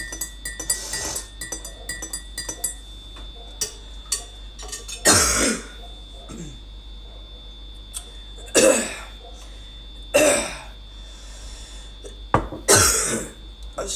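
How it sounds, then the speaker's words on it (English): Several loud, harsh coughs in separate bursts, spaced a few seconds apart, with faint clinking and quiet room noise in between. "I've still got that hacking cough today"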